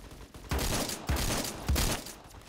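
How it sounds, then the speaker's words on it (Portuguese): Bursts of rapid gunfire in the Roblox game Phantom Forces crackle loudly in three heavy volleys, close and harsh, with no talking over them. "Tem uns caras metendo bala lá."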